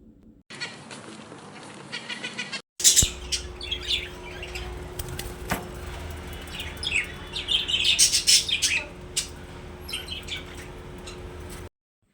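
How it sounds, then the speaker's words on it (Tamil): A parrot gives a series of shrill calls and chirps amid flapping and rustling, preceded by a brief separate burst of sound; moderately loud and close, no talk. "கிளி"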